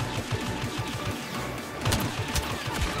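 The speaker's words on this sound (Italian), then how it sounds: "Guarda qua come sparano" Rapid gunfire bursts from the Star Wars Battlefront video game, a dense overlapping volley of shots with sharp repeated cracks and a louder cluster late on, no talk over it.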